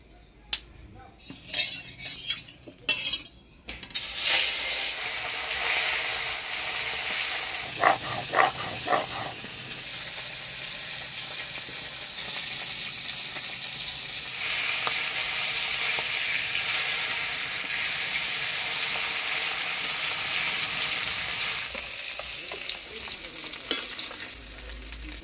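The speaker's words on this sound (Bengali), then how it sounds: "এবার মাছ ভাজা বসাই দিব।" Fish hits hot oil in a wok, starting with a few knocks and clatters, then breaking into a loud, sustained sizzle and hiss of frying that continues steadily and close up, with occasional crackles.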